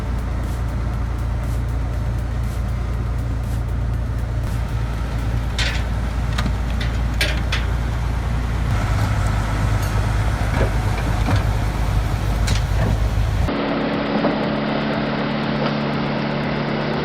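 A ZIL 131 truck throwing snow, its big engine droning loud and steady near the listener through most of the clip. The sound shifts abruptly toward the end.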